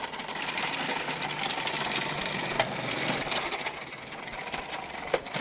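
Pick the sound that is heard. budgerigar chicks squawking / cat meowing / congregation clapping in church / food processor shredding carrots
food processor shredding carrots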